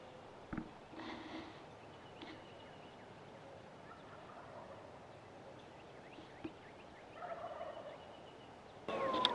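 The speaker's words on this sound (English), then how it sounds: "this morning there's wild turkeys. Always just out of view, but you can hear them" Wild turkeys gobble at a distance near San Antonio, several faint outbursts spread across a quiet outdoor stretch, with a louder rustle near the end.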